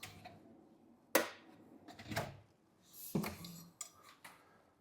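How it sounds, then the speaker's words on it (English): Utensil drawers in an outdoor kitchen slid open and shut, several close knocks and sliding clatters with a metallic rattle, spaced irregularly and separated by quiet gaps. "Drawers for your utensils."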